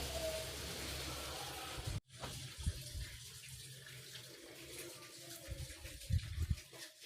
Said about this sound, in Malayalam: ഇതിലേക്ക് ആവശ്യമായിട്ടുള്ള വെള്ളം ഒഴിച്ചു കൊടുക്കാം